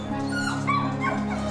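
A dog waits for its food, letting out a soft, close, continuous whimper with small rising yips over a low background hum.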